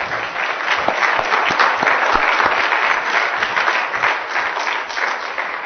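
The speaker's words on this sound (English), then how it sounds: "We got to get this man a round of applause here." An audience applauds a speaker at a leadership council gathering, a dense, steady wash of many clapping hands that holds at an even level for several seconds with no voices over it.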